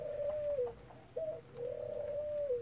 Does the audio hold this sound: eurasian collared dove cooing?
yes